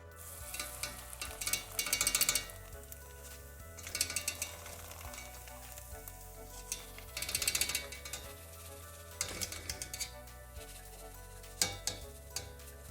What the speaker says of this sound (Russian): Итак, жарить будем в сите.